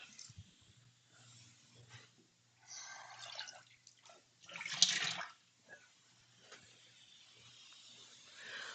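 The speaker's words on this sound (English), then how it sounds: "We're going to give this a little rinse." Faint running water rinsing food in a home kitchen, rising in a few soft splashing surges over a low steady hum.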